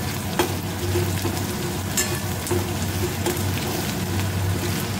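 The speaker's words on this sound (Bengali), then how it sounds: "একটু টাইম নিয়ে ভাজতে হবে আর কি।" Chopped garlic and ginger fry in a pan with a dense, continuous loud sizzle and occasional spatula taps, close by with no talking.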